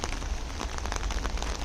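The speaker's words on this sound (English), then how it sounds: "It's really raining now." Steady rain pours down in a cemetery, a dense hiss of drops pattering on surfaces close by, with no talking.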